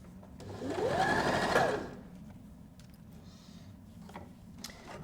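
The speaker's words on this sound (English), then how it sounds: "stretch that band as you sew your straight stitch." A sewing machine runs a straight stitch on a stretched soft jersey band in one quiet, rapid whirring burst of about a second, then falls to faint room noise with light clicks.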